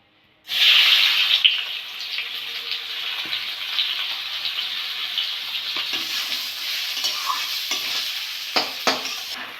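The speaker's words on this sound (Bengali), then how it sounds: "ঘিটা গরম হয়ে গেছে চালটা দিয়ে দেবো" Gobindobhog rice hitting hot ghee in a pan, a sudden loud sizzle that settles into steady frying with scraping stirs and occasional clinks, no voices.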